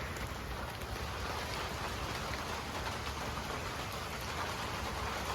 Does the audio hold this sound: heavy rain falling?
yes